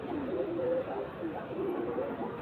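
Breeding pigeons kept in a loft in Khidirpur, Kolkata, cooing in low, rolling murmurs at close range, with a faint voice in the background.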